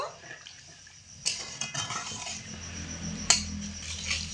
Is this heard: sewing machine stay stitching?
no